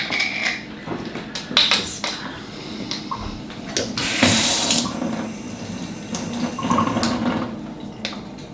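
Water runs steadily from a kitchen tap while energy balls are being made with coconut oil and cacao, a continuous splashing stream with brief clinks and louder bursts of flow, close and clear with no talking.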